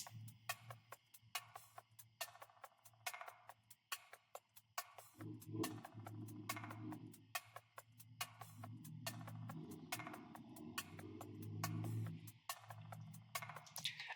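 A percussion loop sample plays in a nostalgic trap-style beat built in FL Studio, with crisp, evenly spaced hits. About halfway through, a low droning layer swells in beneath the hits and carries on to the end.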